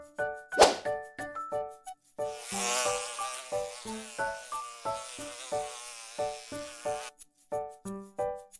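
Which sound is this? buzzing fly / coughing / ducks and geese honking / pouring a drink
buzzing fly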